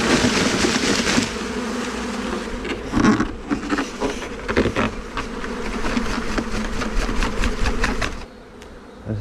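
A swarm of bees buzzing close by as it is caught and re-homed, a dense, continuous humming drone with individual insects zipping near, loud throughout before easing off at the end.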